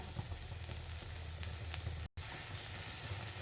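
Ajwain and cumin seeds hit hot oil in a pan and set off a loud, steady sizzle that hisses continuously, broken once by a brief dropout.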